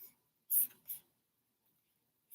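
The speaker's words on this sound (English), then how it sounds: "Sorry about the typing noise." Keyboard typing, a few quick clicky taps at close range, two or three keystrokes in a short burst with quiet gaps around them, soft and faint.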